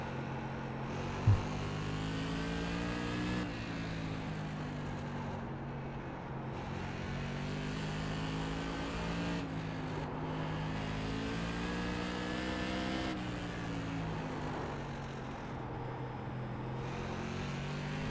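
Modified race car engines in a racing video game drone continuously, the pitch rising and falling with gear shifts and throttle changes, steady and fairly loud, with one brief thump near the start and no talking.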